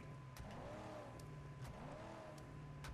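A car engine in the video game Mad Max revs in repeated rising-and-falling sweeps, roughly twice over a few seconds, with a steady motor drone underneath and no voices.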